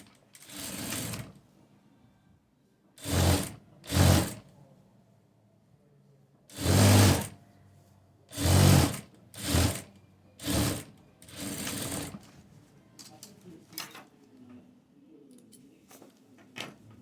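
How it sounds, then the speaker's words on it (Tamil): A sewing machine stitching the folded edge of hook tape runs in a series of short, loud whirring bursts separated by pauses, with faint handling clicks between them. "இந்த ஹூக் பட்டி வந்து ஃபுல்லாக அப்படி மடிச்சுட்டு இந்த எட்ஜில் ஸ்டிச் போட்டுற போகிறோம்"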